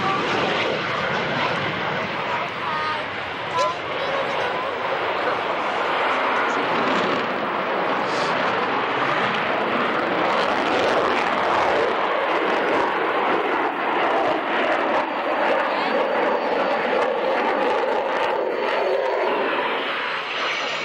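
An aircraft performs overhead at the 1994 Woodford Airshow, a sustained, loud engine roar that swells and shifts in pitch as it climbs, heard continuously from a distance with crowd ambience.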